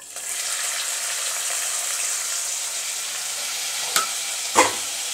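Onions and green chillies fry in hot oil with a steady, even sizzle, and near the end two sharp knocks of a spoon against the pan mark the stirring.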